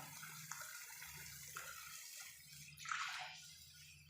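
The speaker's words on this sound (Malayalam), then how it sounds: "ഒരു ഗ്ലാസ് വെള്ളമാണ് നമ്മളിപ്പോൾ ഒഴിച്ച് കൊടുത്തിരിക്കുന്നത്" Water pours into a pot of simmering fish curry, a soft gurgling splash that swells near the end over a low steady hum.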